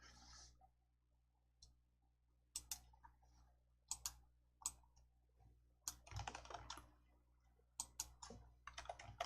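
Mouse clicks on a settings button in Hangul word-processing software, a run of sharp, quiet clicks and taps scattered over several seconds, some in quick pairs, with no talking.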